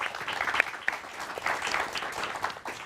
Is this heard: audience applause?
yes